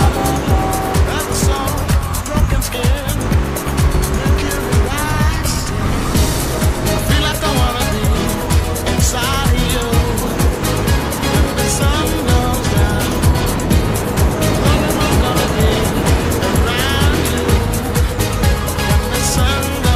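A car driven through Liberty City in a video game, its engine droning steadily under dense music and game sound, with occasional tire noise.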